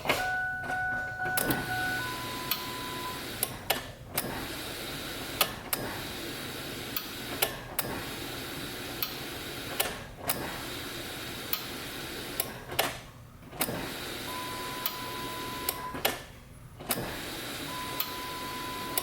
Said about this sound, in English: I'm gonna prime it quite a few times just to build pressure and keep the pressure built